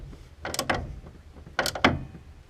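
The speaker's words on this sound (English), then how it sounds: "As you can see, Rob's just bolting up the pedal box." Two short bursts of metallic clicking and ratcheting as bolts are tightened on a car pedal box, close by and moderately loud, with a quiet pause between them.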